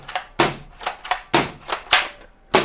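A black and red toy M4A1 gun fires in a string of sharp, snappy cracks at irregular intervals, loud and close, with no voices.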